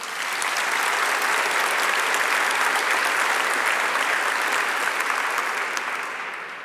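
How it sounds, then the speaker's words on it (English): An audience claps together in a steady, sustained round of applause that holds for several seconds before starting to fade. "Please give them a round of applause."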